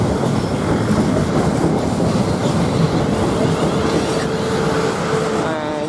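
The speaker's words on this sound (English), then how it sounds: "Now we get another train, South Western Railway" A South Western Railway class 450 electric train, unit 450001, runs through Basingstoke station, a loud, steady rumble of wheels and motors close by with a faint clickety rhythm and a rising electric whine late on.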